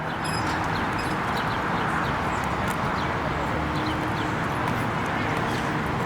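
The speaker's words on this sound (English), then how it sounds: "you can hear birds everywhere" Outdoor birdsong scattered through steady background noise, several birds chirping at a distance in trees amid a constant city hum at Penn's Landing, Philadelphia.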